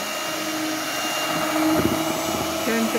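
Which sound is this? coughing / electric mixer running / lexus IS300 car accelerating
electric mixer running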